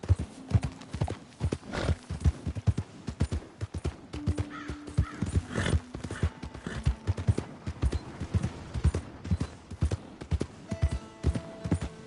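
Rapid hoofbeats pound in a continuous galloping rhythm in Red Dead Redemption 2, with occasional brief tonal calls and effects layered over the running horse, no speech.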